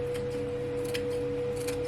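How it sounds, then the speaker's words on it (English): Scissors snip fresh thyme in a home kitchen while a Jamaican stewed pepper steak is being prepared. Several quick, crisp cuts are spaced apart over a steady low hum. "Cut up my fresh thyme."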